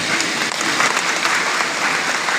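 Dense audience clapping at a seminar in Araria runs continuously and evenly throughout this short stretch, with no pauses.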